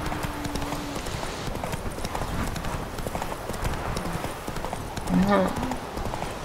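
A horse gallops in The Witcher 3 video game with steady, rapid hoofbeats throughout and a short whinny near the end, under Spanish-speaking talk.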